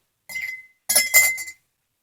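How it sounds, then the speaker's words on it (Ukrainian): Two bright glassy clinks, a short tap followed by a fuller ringing clink, as a metal object knocks against a glass jar, close and clear. "Перед тим, як лити гарячу воду в банку, потрібно поставити туди металевий предмет."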